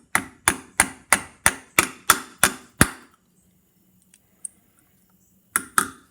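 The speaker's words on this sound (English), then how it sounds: "You're going to take a hammer, ball peen." A small ball peen hammer taps a pin on a phonograph lift lever in nine steady, evenly spaced strikes, close and crisp, then a pause with a faint click before two more taps.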